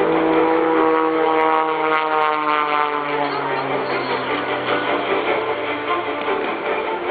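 Engine of an MX2 aerobatic plane rolling canopy first toward the ground at an air show, a loud sustained propeller drone with a shifting pitch that carries steadily throughout.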